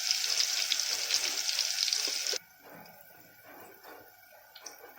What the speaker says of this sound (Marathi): लसण आपल्याला लालसर होईपर्यंत हे करून घ्यायचं आहे, फ्राय करून घ्यायचं आहे